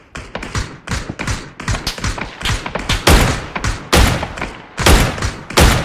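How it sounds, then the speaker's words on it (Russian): Rapid gunfire bursts crack and thud in PUBG, a shooter video game: loud, sharp shots in clustered volleys with brief gaps, several heavy impacts standing out near the end. "Не по мне стреляют."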